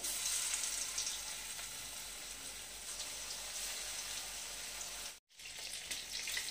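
Chicken pakoras deep-fry in hot oil with a continuous close hiss and bubbling sizzle, steady throughout apart from one brief cut to silence near the end.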